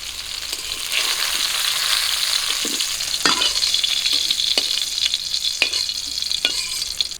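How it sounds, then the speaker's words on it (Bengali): Potato and taro pieces fry in hot oil with a steady, close sizzle, broken by a few sharp scrapes and clacks of a spatula stirring the pan; no one speaks. "আলু আর কচু দেখুন লাল লাল করে ভেজে নিয়েছি এই যে ভাজা হয়ে গেছে তুলে নেবো"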